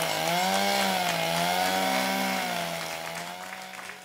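A chainsaw runs loudly and steadily at high revs, then eases off slightly toward the end, close by with no voices.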